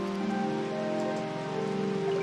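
Steady rain patters and hisses continuously, a dense even wash of falling drops at moderate loudness with no voices.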